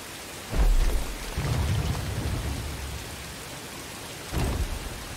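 Heavy rain pours steadily in the Star Wars Jedi: Fallen Order video game, with two deep rumbles of thunder, one early and one near the end, rolling over the constant downpour.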